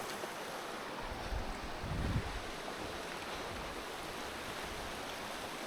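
A clear river flowing at the bottom of a trail near the Curug Cipanji waterfall, producing a steady, even rush of water with a brief low thump partway through.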